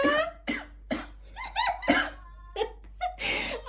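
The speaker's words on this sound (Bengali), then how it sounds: "আপনি যেইভাবে কাশি দিচ্ছেন" A run of short, harsh coughs close by, about seven bursts in uneven succession, some voiced and rough.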